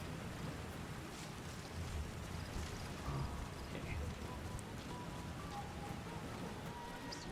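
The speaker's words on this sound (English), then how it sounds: "Caution, rain approaching." Steady rain falling in the video game Metal Gear Solid V, a soft continuous hiss with low rumble, fairly quiet throughout and without talk.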